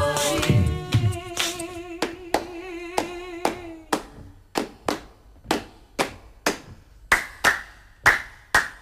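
Hands clapping in a steady, even beat, about sixteen sharp, close claps at a regular tempo, joined early on by a fading sung tone and a brief vocal sound.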